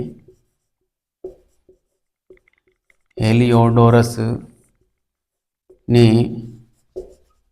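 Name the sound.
teacher writing on a board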